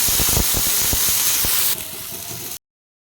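Chopped tomatoes hit hot tempering oil for sabudana khichdi, setting off a loud steamy hiss with crackling pops that abruptly drops to a softer, steady sizzle before cutting off.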